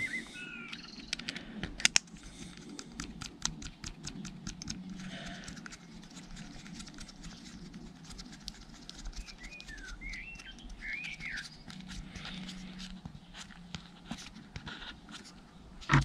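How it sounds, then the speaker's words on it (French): A serviced spinning fishing reel cranked by hand, giving a rapid train of fine ticking clicks close up, with faint bird chirps in the background and no talk. "on repart avec le moulinet qui tourne comme une horloge."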